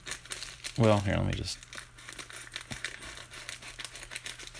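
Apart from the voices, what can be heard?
scissors cutting open a cardboard package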